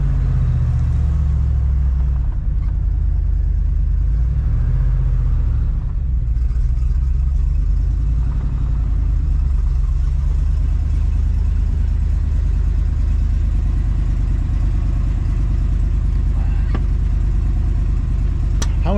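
A 1968 Oldsmobile 442 with a four-speed manual rumbles steadily as it is pulled in, a deep continuous engine drone held close throughout with faint voices in the background.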